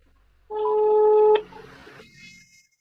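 A short run of steady electronic keypad tones, one long held beep ending abruptly, followed by faint rustling and a brief high chirp.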